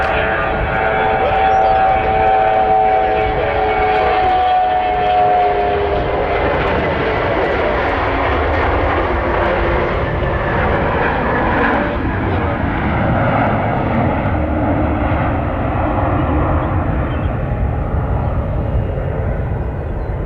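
Airliner roaring down the runway on takeoff at Nashville International Airport, a loud continuous jet engine rumble that rises and then slowly recedes, with someone talking over it.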